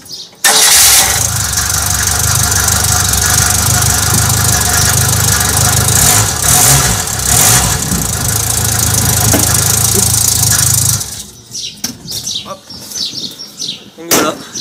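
A Renault 4L's carburetted engine cranks and catches on petrol, then idles loudly and steadily for about ten seconds before cutting off, leaving faint clicks and handling noises.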